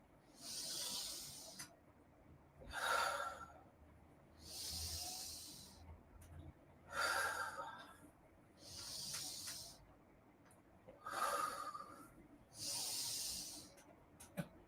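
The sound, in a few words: breathing during yoga exercise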